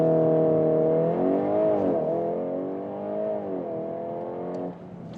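A VW Golf R Black Edition (facelift) launching on launch control, its engine held at a steady buzzing rev before climbing and dipping through gear changes, loud and close from inside the car, then easing off near the end.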